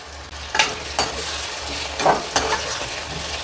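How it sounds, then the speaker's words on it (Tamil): Goat lung sautés in oil with mustard seeds and ginger garlic paste, giving a constant close frying hiss with a few scraping stirs of a spoon on the pan. "எண்ணெய் ஊற்றி கடுகு போட்டு இஞ்சி பூண்டு பேஸ்ட் நல்லா வதக்கிட்டு இப்போ நுரையீரல் வந்து நம்ம போட்டிருக்கோம். இது நல்லா வதங்கட்டும்."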